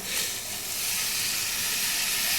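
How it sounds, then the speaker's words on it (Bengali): Hot tempering poured into coconut chutney sets off a steady, bright sizzling hiss that swells and holds close up for a couple of seconds, with no voice over it. "এবারে আমি চাটনির মধ্যে দিয়ে দিচ্ছি"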